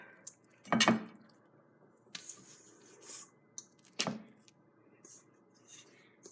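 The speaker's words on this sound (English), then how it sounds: "We plop it into a pan" Chocolate chip cookie bar dough dropped into a pan, giving two soft, heavy plops a few seconds apart among faint kitchen clatter and small scrapes.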